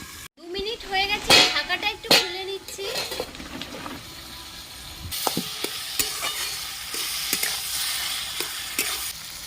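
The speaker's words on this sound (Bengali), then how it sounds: "হালকা লাল করে ভাজা হয়ে গেছে কেটে রাখা উচ্ছে দিয়ে দিচ্ছি সামান্য একটু হলুদ দিয়ে দিচ্ছি" Bitter gourd fries with a pinch of turmeric in a pan with pumpkin, heard as a spatula scraping and clanking against the pan over a low sizzle that grows a bit steadier partway through.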